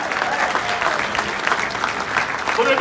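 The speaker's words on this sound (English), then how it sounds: "Big round of applause" Audience applause at a launch event for an innovation district, broad steady clapping that runs the whole time and swells slightly toward the end, with crowd noise mixed in.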